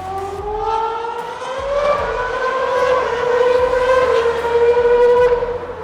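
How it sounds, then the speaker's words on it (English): An old Hamilton-era McLaren Mercedes Formula 1 car screams past at a Bahrain Grand Prix circuit, its shrill high-revving engine note climbing and sustained for several seconds, loud and steady. "So they've got an old McLaren Mercedes out here."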